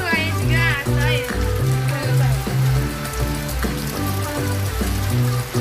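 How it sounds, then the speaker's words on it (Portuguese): Rain pours steadily in a continuous broadband hiss with a crackling, sizzling texture, while music with a steady beat and children's voices play loudly over it throughout. "A chuva, ó, vai chover o dia inteiro hoje"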